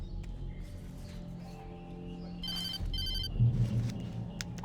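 A telephone rings insistently in the video game Alan Wake, bright repeated electronic trills in short bursts over a low ambient drone, close and clear.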